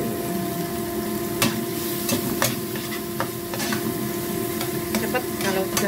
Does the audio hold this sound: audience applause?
no